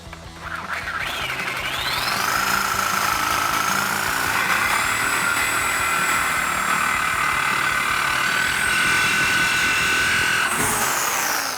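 A power tool cuts through the exhaust pipe beside the muffler weld on a 2019-2022 RAM 1500 5.7L, a loud sustained high-pitched grinding whine rising as it bites in and running steadily for about ten seconds before stopping.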